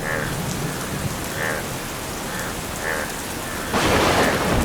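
Steady rain hisses throughout while faint rumbles of thunder roll in the distance, ending with a louder burst of downpour.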